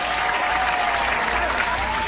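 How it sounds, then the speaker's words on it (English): Sitcom-style applause sound effect, a continuous dense wash of many hands clapping at a steady loud level with no talk, running unbroken for the whole short stretch. "Now you applause when I walk off the frame?"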